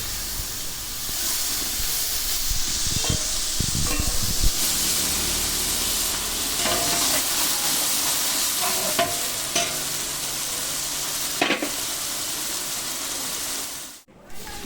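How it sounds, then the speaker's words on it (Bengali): Cumin, bay leaf and dried chilli tempered in oil in a wok, then onion paste added, producing a continuous loud hissing sizzle with stirring scrapes and clatter, close up, ending in a brief dropout. "কড়াইতে দিয়ে দিলাম জিরে তেজপাতা ও শুকনো লঙ্কা ফোড়ন দিয়ে দিচ্ছি পেঁয়াজ পেস্ট"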